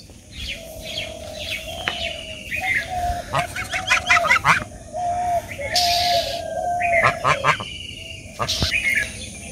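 Several ducks honk and quack repeatedly nearby in a village, calls overlapping in uneven bursts over a low background murmur.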